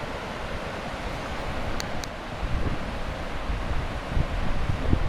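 Rushing water sends up mist in a canyon along the Ouray, Colorado Perimeter trail, a continuous roar with gusty wind buffeting the microphone and a couple of faint high chirps partway through.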